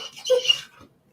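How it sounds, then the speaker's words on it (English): A Rottweiler whines for a cookie, one short high whimper lasting under a second, close and clear with no talk. "this noise is a Rottweiler wanting a cookie"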